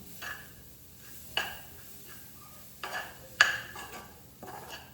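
A utensil scrapes and taps against a bowl in a few scattered strokes, quiet and close, with brief pauses between.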